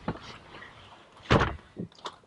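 Rear seat of a 2016 BMW 340i being folded down, giving a sharp thump near the middle and a few lighter clunks and rustles after it.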